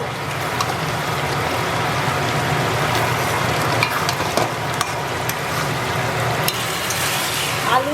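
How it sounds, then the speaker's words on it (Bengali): Fried potatoes land in a pan of sizzling cooked-down spices with turmeric, ginger, cumin and dried chilli, giving a steady close-up frying crackle with scraping stirs throughout, no talk. "মশলা কষানো হয়ে গেছে, এখন ভাজা আলুগুলো দিয়ে দেবো"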